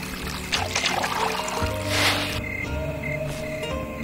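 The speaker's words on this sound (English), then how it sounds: "Now I need to pour it into the goblet." Elixir poured into a goblet in Mexicana: Deadly Holiday, a short, soft liquid pour with gurgling trickles over a low background hum, lasting a couple of seconds.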